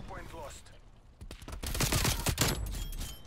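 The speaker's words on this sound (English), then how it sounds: "Dude, this gun is actually really good. This gun is hitting right now." Rapid bursts of Vargo 52 assault rifle fire in Call of Duty: Black Ops Cold War multiplayer, a dense, fast-firing crackle that rises in the second half while a player talks over it.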